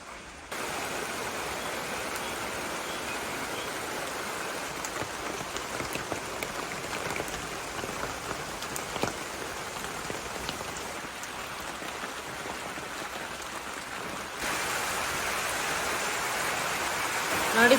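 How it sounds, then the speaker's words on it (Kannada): Steady morning rain pours down on a yard, with runoff water flowing across the ground. The hiss holds even and close throughout and grows slightly heavier near the end, with brief voices faintly present. "ನೋಡಿ, ಬೆಳಿಗ್ಗೆನೆ ಮಳೆ."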